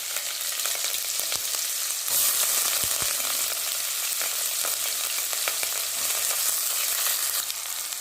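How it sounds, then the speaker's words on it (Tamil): Onions and green chillies fry in hot oil with cinnamon and cloves for vegetable biryani: a dense, continuous crackling sizzle, close up, with occasional stirring clicks. "வெங்காயமும் பச்சை மிளகாவும் சேர்த்துக்கிட்டேன். நல்லா வணங்கட்டும்."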